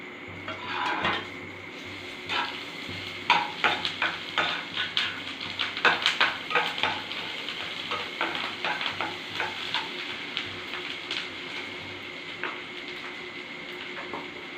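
Black cumin, garam masala, turmeric and green chilli tempering in hot oil for vegetable chops, a steady sizzle broken by repeated scraping stirs and light clinks of a spoon against the pan, close and alone.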